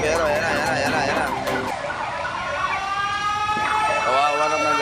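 A fire truck siren wails loudly and close at a fire outside a shopping mall, its pitch sweeping up and down with overlapping tones, while voices talk underneath.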